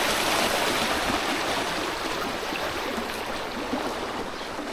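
Steady rushing water in a field irrigation channel, close by and continuous with no voices.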